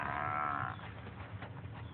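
An African buffalo herd lowing at Ruma National Park in Kenya, with a strong drawn-out moo up front followed by softer, scattered lows from other animals over a steady background.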